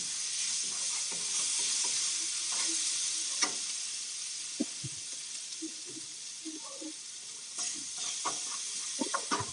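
Onions sizzling and frying in a pan for a crustless quiche, a steady close hiss with scattered stirring clicks and scrapes of a utensil throughout.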